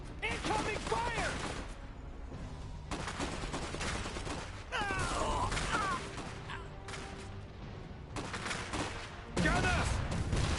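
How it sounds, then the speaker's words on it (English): Heavy battlefield gunfire in the game Iron Harvest 1920, with dense overlapping bursts of rifle and machine-gun fire and explosive blasts in rapid succession, loud and continuous in several clustered waves with brief lulls between them. "Incoming fire!"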